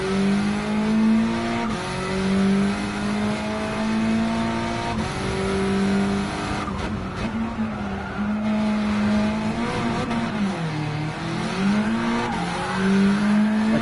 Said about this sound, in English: It's spinning tire just because it's a front wheel drive car.